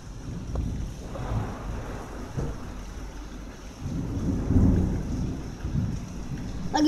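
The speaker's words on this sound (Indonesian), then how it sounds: "Lagi hujan deras di luar." Heavy rain pours steadily outdoors during a windy thunderstorm, with low rumbling thunder swells and gusts buffeting the microphone throughout.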